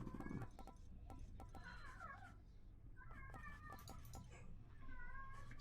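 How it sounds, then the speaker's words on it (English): A pet cat named Spook lets out a series of odd, warbling meows and chirps, quiet and close, spaced across a low background hum. "Spook, you're making some really weird noises for a cat that is spoiled rotten and is definitely totally fine."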